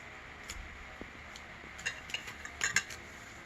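A child stirs cake batter in a bowl, with faint, sparse clinks and taps of a utensil against the bowl, a few louder scrapes clustered near the end, and no talking.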